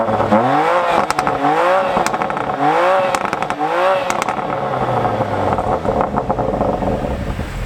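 A BMW M2 Competition engine is blipped to about 7,000 rpm four times in quick succession, each loud, close rev ending in sharp gunshot-like exhaust bangs and crackles before the idle settles.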